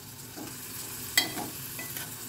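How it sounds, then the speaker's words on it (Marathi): A single onion sizzles softly in hot oil while a utensil stirs, with one brief clink of metal partway through. "कांदा आपल्याला परतून घ्यायचा आहे।"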